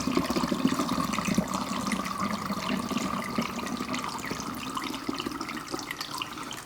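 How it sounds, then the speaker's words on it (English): Blended pineapple and starfruit juice poured into a container, a continuous close gushing, splashing pour lasting several seconds, with no voices. "I am going to pour out the juice in my container here because we're finished the blending process"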